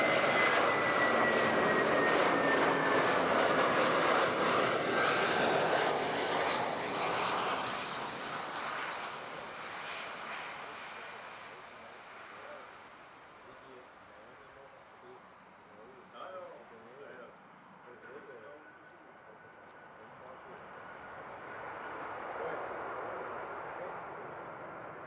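Eurowings Boeing 737 landing at Zurich airport: a loud jet roar sweeps past, then fades and thins over many seconds into a quieter distant rumble.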